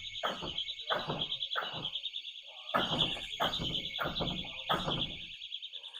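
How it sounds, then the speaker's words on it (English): A Sabre doorstop alarm, wedged under a door, sounds a continuous shrill high-pitched tone, loud and close, with repeated heavy thumps and rattles of the door being forced against it. "and that alarm is still going off"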